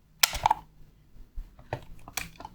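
Small clicks and mechanical snaps from the leaf shutter of a Zeiss Nettar 515-2 folding camera, squashed bellows, being cocked and fired close up in a quiet room, with a sharp first click and a few softer clicks after.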